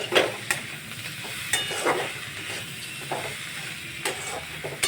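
Egg chowmein frying and being stirred in a pan sizzles and hisses without a break, with repeated scraping strokes of a utensil and no voices.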